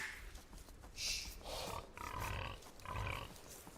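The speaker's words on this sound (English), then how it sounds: "Oh, they killed 2 pigs." Pigs squeal and grunt as they are killed in Age of Empires II, several rough overlapping cries in quick succession over a steady game background, with no talk.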